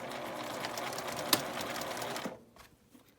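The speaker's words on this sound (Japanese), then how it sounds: "中表にして留めて両端を1センチの縫い代で縫います" A sewing machine stitches eco fur fabric for a tote bag, sewing 1 cm seams along both edges. The brisk, loud mechanical whir runs close for about two seconds, then stops, leaving faint handling sounds.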